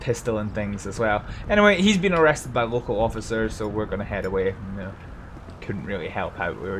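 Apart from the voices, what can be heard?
None of the usual background noises is heard.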